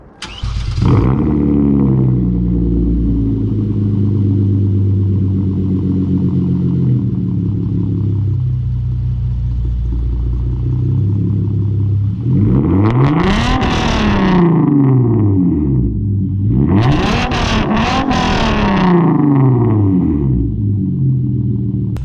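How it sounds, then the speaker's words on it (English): Hyundai Genesis Coupe fitted with an ISR race exhaust, idling loud and close, then revved twice in strong rising-and-falling sweeps, each burst sharp and aggressive before settling back to a deep steady rumble; no talking. "let's go ahead and hit some revs and some hard pulls so you guys can hear it."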